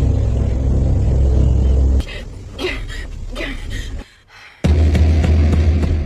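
A car engine rumbles loudly as the vehicle is started and driven off in a hurried escape, the steady drone cutting out briefly mid-way before returning at full strength, with indistinct voices and noises layered over it.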